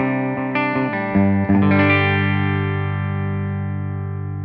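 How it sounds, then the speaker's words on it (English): A Fender Ultra Stratocaster's bridge humbucker on a clean amp tone with the S1 switch off, a few quick picked notes leading into a sustained chord that rings out and slowly fades. "here's the sound just of that bridge humbucker by itself through the clean tone with the S1 switch off"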